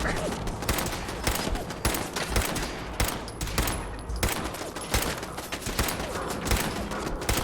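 Rapid bursts of automatic gunfire from a gun in the video game Fallout 4, loud and continuous across the whole stretch with sharp repeated cracks and a little faint talk underneath.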